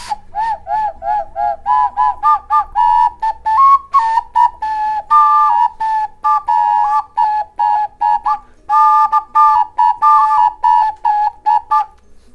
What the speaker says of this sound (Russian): Двойные свисточки.